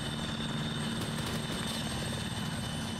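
Helicopter in the Arma 3 military video game during a Soviet-Afghan campaign mission, a dense continuous rotor and engine roar with steady rhythmic blade chop, loud and close, with no voices.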